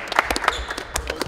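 Short burst of hand clapping from a small group at a basketball tryout, a quick uneven patter of claps lasting about a second.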